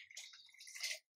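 Water poured into a pot of Telangana-style tomato rasam (charu): a brief, quiet splash and trickle lasting about a second, heard alone before cutting off.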